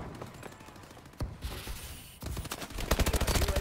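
Rapid gunfire in Call of Duty: Advanced Warfare, sniper shots and automatic bursts in quick succession, loud and close, growing denser toward the end with no talk.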